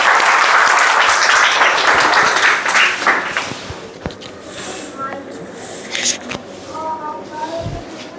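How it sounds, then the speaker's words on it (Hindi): A group of children claps loudly together for about three seconds at close range, the applause then fading into scattered claps and quieter voices in the room. "दिव्य भैया के लिए ताली बजा दो जोर से।"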